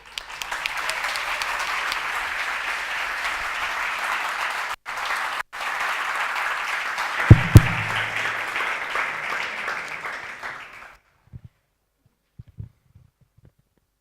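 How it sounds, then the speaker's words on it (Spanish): Sustained, dense applause from a conference audience welcoming a speaker to the stage, loud and steady for about ten seconds before cutting off, followed by a few faint thumps and scattered handling noises. "un fuertísimo aplauso a Albert"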